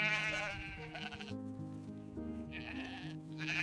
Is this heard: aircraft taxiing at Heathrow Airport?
no